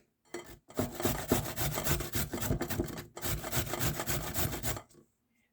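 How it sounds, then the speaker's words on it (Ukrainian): Carrots and beets rasp against a coarse grater in two long bursts of rapid, rhythmic scraping strokes. The strokes are close and fairly loud, separated by a brief pause, with silence at both ends. "Моркву і буряки натираємо на грубу тертку."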